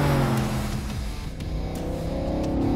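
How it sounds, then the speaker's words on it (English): Ford GT40 replica with a 650-horsepower fuel-injected Ford Coyote V8 accelerating on track, a loud, close engine note climbing in pitch through the revs, with brief shifts, and no talk over it. "650 horsepower fuel-injected Ford Coyote V8"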